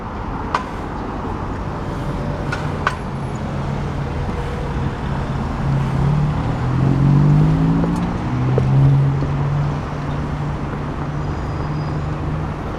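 Busy road traffic on Merrion Road in Dublin rolls past continuously, a loud steady roadway roar with engines swelling as vehicles pass nearby, one passing car rising and falling in pitch midway, with no talk.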